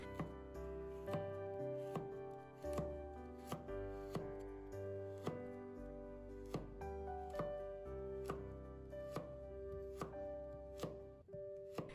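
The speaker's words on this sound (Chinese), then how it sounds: "再改刀切成薄片" A knife slices peeled food into thin slices on a board, its crisp cuts landing in a steady rhythm of about two per second, close and clear over soft background music.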